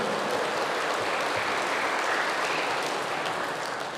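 An audience in a church hall applauds in a dense, steady wash of clapping that holds at an even, fairly loud level throughout.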